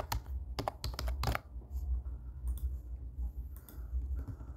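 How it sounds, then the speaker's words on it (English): Someone types on a computer keyboard while entering a password in a web form: rapid, close, irregular keystroke clatter over a steady low room hum, with no speech. "What we will do, we will type."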